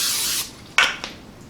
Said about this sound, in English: So now I'm just going to spray my cookie sheet with a little bit of Pam.